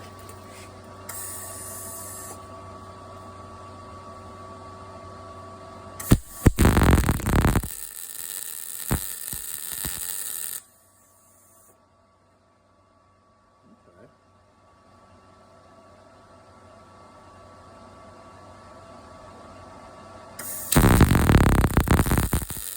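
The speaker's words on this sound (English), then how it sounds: "We're gonna try welding." An arc welder welding metal during a first-time fabrication attempt gives off two loud, sustained bursts of crackling, spraying hiss, separated by a quieter stretch of low hum and faint shop noise.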